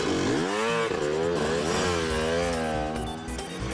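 Cartoon motorcycle engine revving loudly with a wavering, rising and falling pitch that sounds like a voice-like or synthesized imitation, sustained for a few seconds with no talking.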